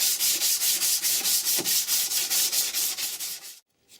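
Close, loud power sanding with 180 grit abrasive stripping paint, a steady rasping drone in rhythmic pulses of about five strokes per second, running without speech before cutting off abruptly.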